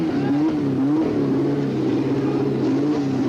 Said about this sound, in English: Car is down off the air jacks and away.